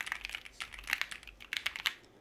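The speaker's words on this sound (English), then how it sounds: "Okay, so we got new keyboard, Q6 Max Keychron, blacked out version." Typing on a blacked-out Keychron Q6 Max mechanical keyboard with banana switches produces a close, steady stream of crisp clacks in quick, slightly irregular bursts, with no voice.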